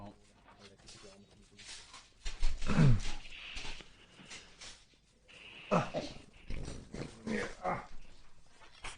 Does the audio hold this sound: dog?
yes